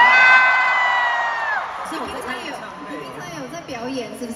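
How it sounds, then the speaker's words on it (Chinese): An audience at an entertainment show screams, whoops and cheers loudly, with a sustained high shriek at first that breaks into scattered overlapping yells and shouts. "尖叫声！"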